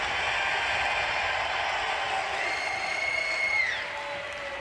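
A crowd at BlizzCon 2011 applauds and cheers steadily, a dense wash of clapping that fades slightly toward the end.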